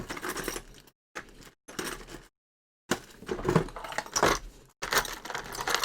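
Metal tools clatter and jangle as someone rummages through them hunting for a screwdriver, in bursts of clinking broken by short silences, close and fairly loud with no talk.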